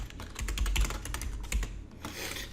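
Rapid typing on a computer keyboard set in an awkward position, a quick irregular run of close clicks and clacks, fairly quiet, with no talk.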